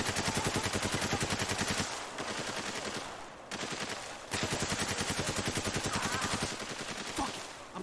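Sustained automatic gunfire in Spec Ops: The Line: a rapid, steady rattle of shots that continues almost unbroken, loud and close, with no talking.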